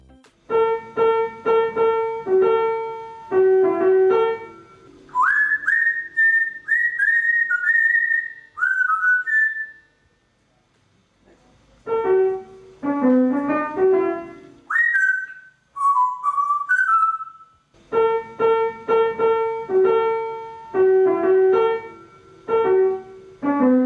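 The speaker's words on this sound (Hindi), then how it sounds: "जरा सुनिए वो कैसे आराम से पियानो के साथ सीटी बजाता है" An African grey parrot whistles clear melodic phrases in turns with piano notes, the bird's gliding whistles answering bursts of played chords, close and bright.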